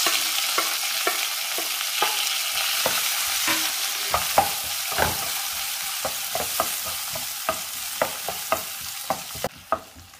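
Sliced onion with curry leaves frying in hot oil in a pan for Kerala-style fish pollichathu, a steady sizzle broken by repeated sharp scrapes and clacks of a spoon stirring, close and with no talking.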